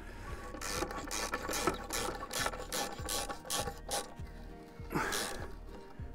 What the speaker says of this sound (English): We're just in the process of screwing them in now with a ratchet.